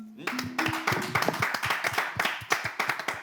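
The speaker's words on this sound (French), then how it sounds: "Ça s'acclame." A small group claps in quick irregular bursts, close and lively, with a voice and tones mixed in over the applause.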